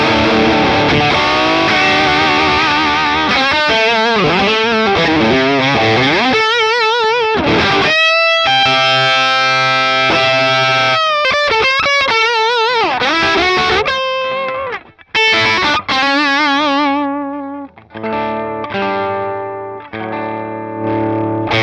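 An electric guitar plays chords and riffs through a Mad Professor Super Black overdrive pedal, giving a loud, crunchy distorted tone with sustained notes, abrupt stops and short pauses, with no talk.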